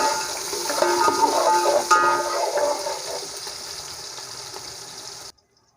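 Onions frying in a pan while being stirred for matar pulao give a loud, steady broadband sizzle with scraping stirs, fading slightly before cutting off abruptly near the end.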